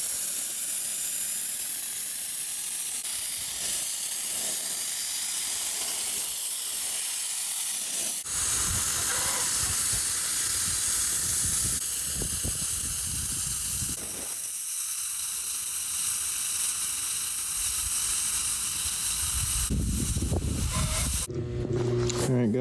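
Loud, steady hiss of a spray gun spraying car paint on a Saab 9-3, running continuously close by with slight shifts in pressure.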